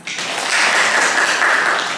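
Classroom applause from students after a geography lesson at Universitas Sebelas Maret, a dense, even wash of clapping held steady for two seconds.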